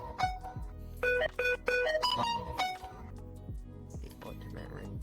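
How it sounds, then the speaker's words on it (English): A bright, melodic electronic ringtone plays in VRChat, its chiming notes rising and stepping through a short tune, with voices talking over part of it. "Ultimate ringtone."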